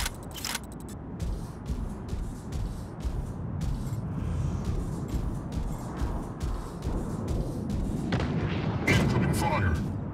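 Incoming artillery fire in the mech combat game Mech Arena, a dense continuous barrage of booms and blasts with sharp bursts at the start and near the end, mixed with game effects.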